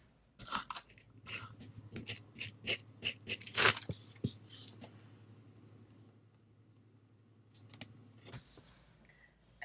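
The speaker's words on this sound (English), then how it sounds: "I'm just going to use my Glue Dots tape adhesive runner." A Glue Dots tape adhesive runner is pressed onto planner paper, making a burst of quick clicky, scraping strokes that fade to quieter rustling and a few final clicks.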